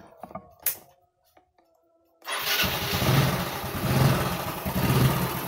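A motorcycle on a double-battery setup, a few faint clicks and starter sounds, then the engine catches and settles into a steady, fairly loud idle with rhythmic low pulsing.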